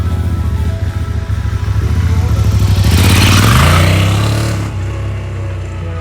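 A Ducati Monster 796 naked motorcycle is ridden. Its engine drones loudly and steadily, then revs up with a rising roar before settling back to a lower throb, with wind rush throughout.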